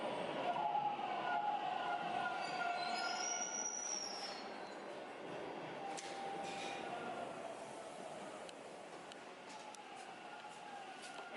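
Subway train rolls along with a steady rumbling roar, wheels squealing in high whines early on, and the noise easing slightly midway as the car keeps running.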